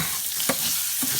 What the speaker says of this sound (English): Get that toasted up with the rice as it's browning.